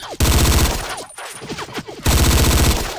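Bursts of machine gun fire in the Battlefield Yugoslavia video game, a loud sustained rattle at the start and again at the end, with a brief gap of scattered shots and clatter between.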